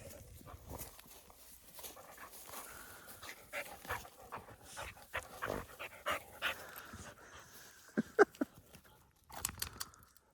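A dog panting and whimpering in the woods, with short bursts of rapid breathy pants and small whines, close and moderately loud, with rustling around it.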